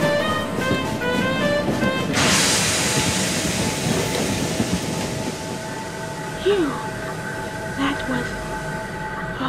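Goods train on a Scottish railway, heard as a steady broadband rumble of wagons on the rails that starts abruptly and carries on without a break, with faint squeaks and other small sounds riding on top of it.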